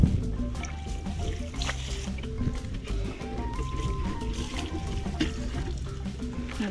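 An item is washed with water outdoors in a desert village, giving a continuous soft splashing and trickling close by under background music.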